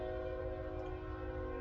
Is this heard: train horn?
yes